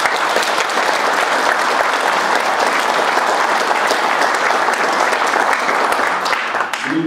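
Loud, sustained applause from an audience at a lecture hall gathering, steady and dense for the full length with no break.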